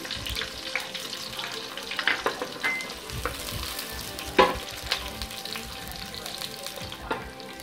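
Fenugreek and small shallots fry in sesame oil in a clay pot, a continuous crackling sizzle with sharper pops and stirring clatter near the microphone, loudest in a burst around the middle.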